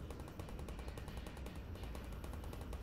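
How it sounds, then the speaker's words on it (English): Rapid automatic turret fire in the video game Half-Life: Alyx, a dense, continuous stream of gunfire filling the whole stretch at steady volume. "Oh, there's turrets."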